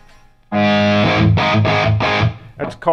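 A loud, distorted electric guitar through a Genz Benz El Diablo 100 amp plays sustained chords in a few strong strums, each ringing out with a wash of tile reverb, then a short burst of notes.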